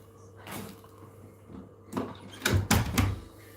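A door is pushed shut against the cold, giving a few scattered bumps followed by a cluster of louder thuds and rattles as it closes near the microphone.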